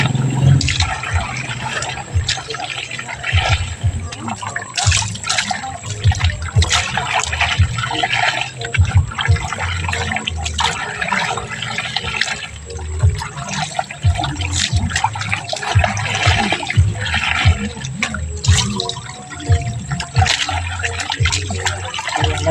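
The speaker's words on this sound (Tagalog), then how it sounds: "Nagbanlaw na ako sa mga pantalon, mga langga, mga short." Pants and shorts are rinsed by hand in water, giving continuous sloshing, splashing and trickling that stays close and busy throughout with no talk.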